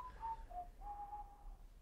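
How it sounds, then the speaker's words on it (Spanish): Soft, thin whistling of a few drawn-out tones, one after another, quiet against a low background hum, part of a sound artwork in a gallery exhibition. "comienza con una pieza sonora que consta de un silbido"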